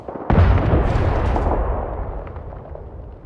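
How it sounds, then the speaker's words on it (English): A grenade explosion in the video game Apex Legends bursts abruptly, loud and close, then rumbles and decays over about three seconds, with no talking. "Grenade."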